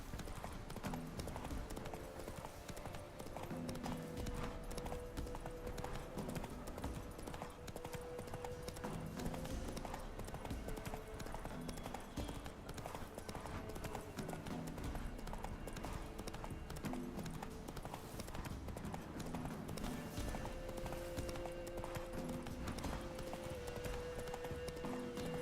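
Roach the horse trots along in The Witcher 3, hooves clip-clopping in a steady, continuous rhythm under game music, with occasional snorts and a faint voice.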